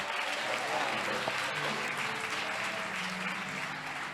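Steady applause from a crowd fills the whole stretch, dense and continuous at an even loudness.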